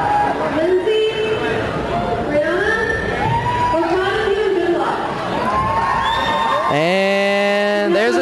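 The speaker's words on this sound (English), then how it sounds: "they get a nice round of ovation" A crowd at a high school basketball game cheers for the Roseville High School varsity cheer squad, a steady roar of shouts and whoops under continuous announcer talk, with a rising electronic tone near the end.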